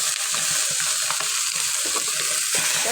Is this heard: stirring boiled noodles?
yes